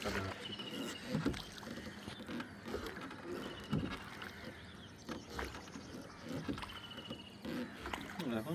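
A boat ride on the water: steady lapping and sloshing against the hull with rumbling background noise throughout, and people talking intermittently.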